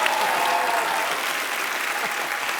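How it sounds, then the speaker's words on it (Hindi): Loud, steady studio audience applause at a Kapil Sharma comedy show taping, dense clapping filling the whole moment without a break. "इस बात के लिए जोरदार तालियां।"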